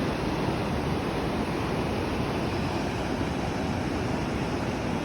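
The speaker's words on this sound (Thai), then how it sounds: "มาเที่ยว น้ำตก อยู่เมืองมิลฟริสโก รัฐเทนเนสซีเนาะ" A waterfall in Tennessee pours in a steady, dense rush of water, loud and close, with no voices over it.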